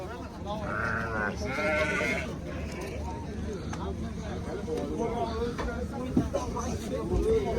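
Lambs bleat a few times near the start amid the crowded outdoor din of a livestock market in Jalal-Abad, Kyrgyzstan, with people talking steadily over the noise.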